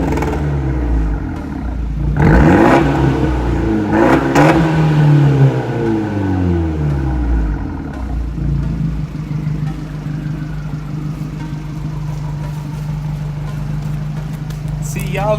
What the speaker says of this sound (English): It's revving time.